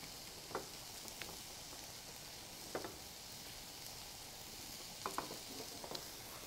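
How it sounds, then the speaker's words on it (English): A quiet, steady sizzle of egg cooking in a non-stick pan, broken by a few soft, brief clicks and scrapes as it is cut up in the pan, with no voices. "And with a non-stick pan, the egg cooks very, very quickly"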